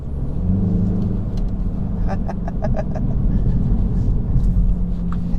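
A 2020 Mini Cooper S 4-door drives along with a steady, loud low engine and road rumble heard from inside, joined briefly by a series of light clicking taps.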